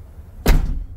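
The rear door of a 2009-2014 Ford F-150 with a door ajar fault is opened, giving a single close, solid thunk of the latch and door that decays quickly, with no talking.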